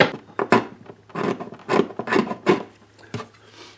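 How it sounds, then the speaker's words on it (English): A scraper rasps finish off a steel string guitar top down to bare wood, a quick series of close, uneven scraping strokes in short bursts. "So I'll just scrape this little bit all the way around."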